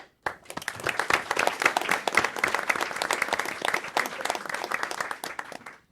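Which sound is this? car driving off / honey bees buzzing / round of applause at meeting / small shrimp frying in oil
round of applause at meeting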